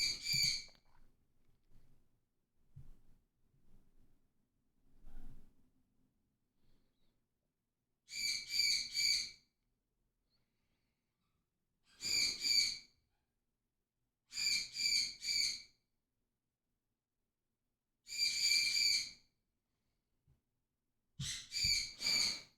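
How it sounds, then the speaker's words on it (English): A bird calls loudly in short, harsh, high-pitched bursts, about six separate calls spaced several seconds apart over quiet background, with faint low noises between them. "That bird is too loud."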